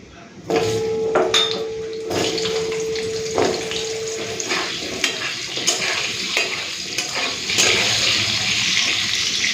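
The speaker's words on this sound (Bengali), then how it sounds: "ফোড়নটা দিয়ে একসাথেই আলুটাকে লাল করে ভেজে নেব।" Potatoes fry in hot oil with a pinch of black cumin tempering for a Bengali mustard-brinjal-bhetki dish, a steady close sizzle broken by clinks and scrapes of a spoon stirring the pan.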